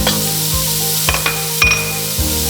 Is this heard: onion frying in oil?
yes